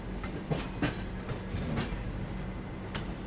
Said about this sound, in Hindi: ये तो कोई ट्रेन है जिसमें पैसेंजर्स बैठे हुए हैं